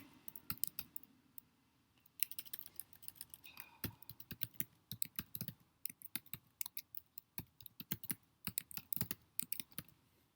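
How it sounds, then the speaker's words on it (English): A password is typed on a computer keyboard in quiet, irregular bursts of light, close clicking keystrokes, with a short pause early on and no talk. "I'm going to type in a password."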